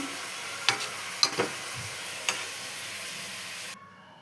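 Carrot halwa cooking with milk in a pan gives a soft, steady sizzle close up, broken by a few sharp scrapes and clicks of stirring before it cuts off.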